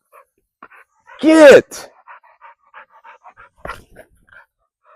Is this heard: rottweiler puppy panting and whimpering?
yes